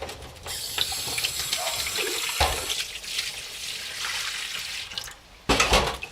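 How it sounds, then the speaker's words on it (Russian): Running tap water splashes into a sink for several seconds, with clinks and shifting as thawed frozen fish roe is rinsed, then a short louder gush at the end. "Икра была замороженная, соответственно, немножко уплывает, но ничего страшного. Еще раз промываем."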